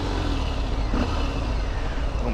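A Harley-Davidson Fat Bob motorcycle engine rumbles loud and close with a continuous throaty roar, rising slightly in a brief rev, with no voices over it.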